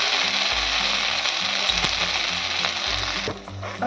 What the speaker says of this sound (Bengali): আরও যেগুলো আছে আমি একইভাবে ভেজে নিচ্ছি